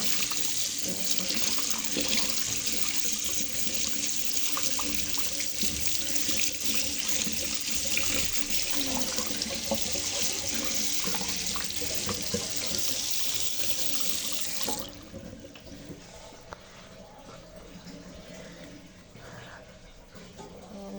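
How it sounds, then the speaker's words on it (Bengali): A water tap runs steadily into a sink as paint is washed off hands, a constant close gush that drops to a quieter trickle near the end, with voices speaking over it. "আমি একটু এই রংটাকে ধুয়ে নিই।"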